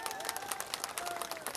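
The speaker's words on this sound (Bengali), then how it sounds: "ময়নার জন্য সবাই জোরে একটা হাততালি" A crowd at a rural public gathering in Tanore claps together, dense and fairly faint applause with many overlapping hand claps and a steady rhythm.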